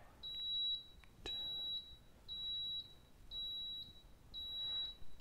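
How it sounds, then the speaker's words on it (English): A Baby Brezza bottle warmer gives five evenly spaced high-pitched electronic beeps, each lasting about half a second, sounding clearly over a quiet background. "you shall hear 5 beeps starting right about now."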